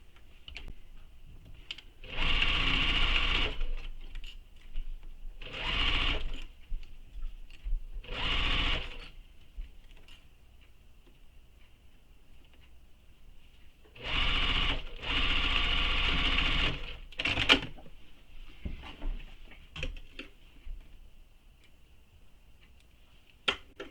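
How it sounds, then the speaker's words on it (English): Sewing machine stitching the short edges of a fabric scrunchie with a quarter-inch seam, running in several steady bursts of a few seconds each with quiet pauses between, close and fairly loud. "we're sewing this with 1/4 inch seam allowance"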